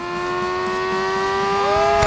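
Yamaha NMAX scooter accelerating out of a corner on a track, engine note rising in pitch as it gains speed, steady and fairly loud with no talk over it.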